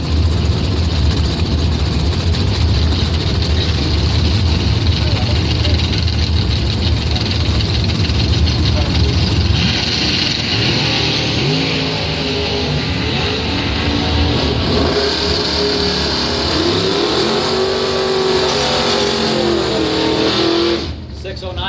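Bracket drag racing cars at Northern Michigan Dragway, loud engines idling and rumbling close by, then revving and rising in pitch, with a public-address announcer talking over the noise.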